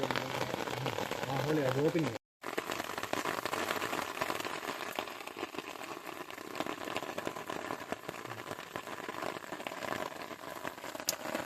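Steady rain falls hard and close, a dense continuous hiss of drops on surfaces that barely changes throughout; a voice is heard briefly near the start, and the sound cuts out for a moment before resuming.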